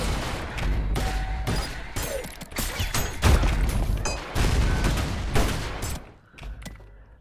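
Rapid bursts of split-shot gunfire from the video game Ultrakill, loud and dense, with clattering mechanical weapon sounds and a brief drop in intensity near the end.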